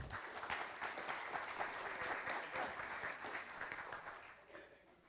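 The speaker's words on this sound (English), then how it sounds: "Our applause to panel one." An audience at a land policy forum applauds a panel, sustained crowd clapping at an even, moderate level that thins out near the end.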